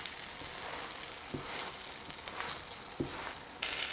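A chive-filled pancake fries in an oiled pan with a steady close sizzle and crackle, broken by two soft thumps.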